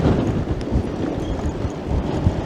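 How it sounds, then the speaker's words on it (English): Strong wind buffets the microphone on a seaside promenade, a loud, continuous low rumble with gusty swells throughout and no other clear sounds. "It's very, very windy"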